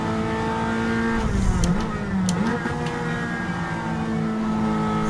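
A Castrol Celica all-wheel-drive race car in a racing video game holds a loud, steady engine drone that dips and rises briefly mid-clip as it shifts and revs, with a few sharp clicks, heard alone without talk.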